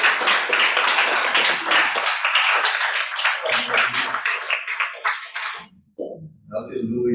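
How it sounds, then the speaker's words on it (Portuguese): A church congregation claps together during a celebration service, dense sustained applause that thins into scattered claps and fades out, with voices heard near the end. "Você pode aplaudir o Senhor?"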